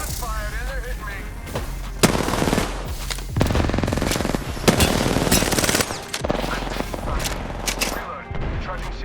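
Rapid automatic gunfire from the video game Apex Legends rattles in several loud, dense bursts, close and punchy, with brief gaps between volleys and a voice talking over parts of it.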